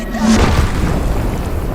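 A film explosion erupts as a loud, deep boom, with rumbling low-end energy sustained for nearly two seconds.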